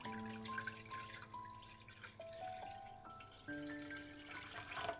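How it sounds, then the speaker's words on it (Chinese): Water poured into a cooking pot in a kitchen while preparing spiced peanuts, a close, steady trickle and splash alone with no talk. "接下来锅中多倒一些清水"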